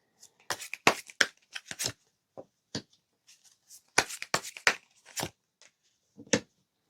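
Tarot cards shuffled and drawn by hand, a series of crisp riffling and slapping bursts in quick clusters with short pauses, close and clear with no talking.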